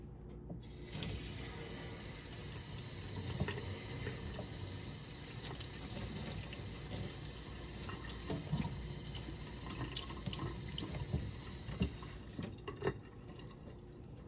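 Running tap water streams into a sink as a makeup brush is rinsed beneath it, a steady hiss and splash lasting several seconds with faint drips and handling noises, then stopping abruptly near the end.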